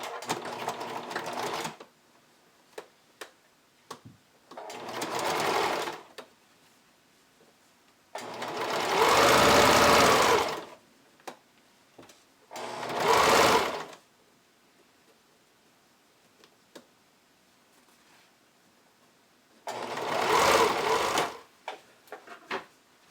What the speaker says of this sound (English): I'm going to do a zigzag stitch